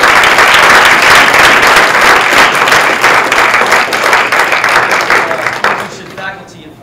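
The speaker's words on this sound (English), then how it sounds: "Give them a warm round of applause." Audience at a talk on privacy and security gives a warm round of applause, a loud, dense, steady clapping from a large crowd that tapers off near the end.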